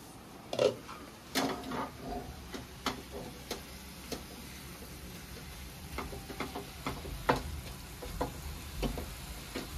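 Snake gourd mash stirred in a pan with a paste of white mustard, green chilli and garlic, giving soft scraping clicks and light sizzling in irregular bursts, close and moderately quiet, with no talking.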